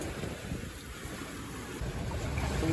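A sailboat runs under sail in strong wind, its jib straining, and wind roar and rushing water fill the short stretch with steady broadband noise that swells toward the end.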